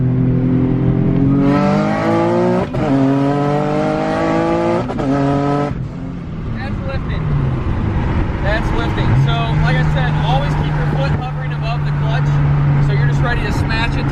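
A modded car's engine revs up hard and climbs through the gears, with a short drop at each shift before pulling high again, then settles to a steady drone as a voice talks over it.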